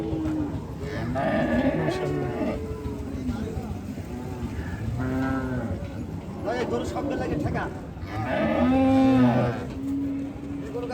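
Cattle low and moo a few times amid steady voices talking nearby at a livestock market as cattle are unloaded from a truck, the calls rising in drawn-out bursts over the chatter.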